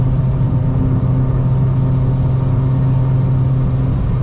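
A K20-swapped Honda Jazz Fit accelerates hard, its engine a loud, steady, droning rumble from inside the cabin, sustained without a break and with no voices.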